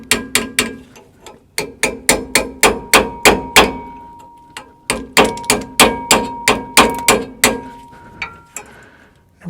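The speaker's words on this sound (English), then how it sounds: "the washer's kind of cemented itself onto the bushing, so we're going to have to try and tap this off" A hammer taps on a corroded washer stuck to a rear stabilizer bar bushing on a GM SUV. It makes sharp metallic clanks in quick bursts of rapid strikes, with short pauses between bursts. The hits are close and loud, with no voice.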